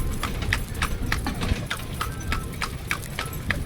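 Horse hooves clip-clopping on a hard surface at a steady walking pace, a quick run of crisp, close knocks over a low background rumble.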